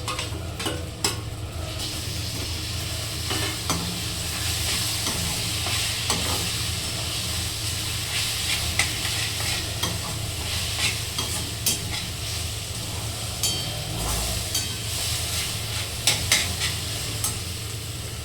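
Mashed roasted eggplant bharit stirred in a hot pan, a steady close sizzle and frying crackle running throughout with intermittent scraping clicks of a spoon or spatula against the pan.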